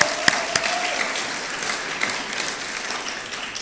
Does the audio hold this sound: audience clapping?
yes